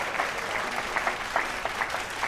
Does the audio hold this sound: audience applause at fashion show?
yes